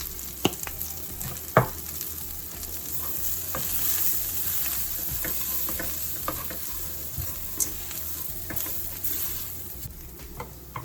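Spice powder, including paprika, fries over low heat in a pan for a Sri Lankan crab curry, with a continuous close sizzle and crackle broken by sharp scrapes and knocks of a stirring spoon, no speech.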